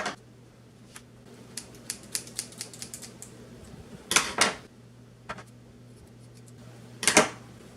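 Scissors cut up a sock to make a wind cover for a GoPro microphone, giving a run of small, crisp snips and a few louder rustling cuts, close and quiet, with no talking.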